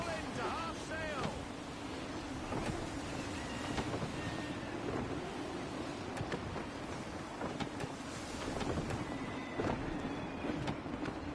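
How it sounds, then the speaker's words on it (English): Gusty wind rushes and buffets at sea aboard a sailing ship in Assassin's Creed III, a steady roar with creaking and splashing water, overlaid by voices. "Gusty winds can be difficult to manage."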